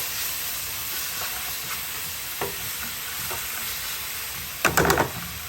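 Seasoned stir fry cooking in a pan, a soft steady sizzle with a few light taps and a short burst of louder clattering stirring near the end.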